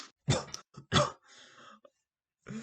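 A couple of sharp, close coughs followed by a throat-clearing rasp, then quiet, with another short cough at the end.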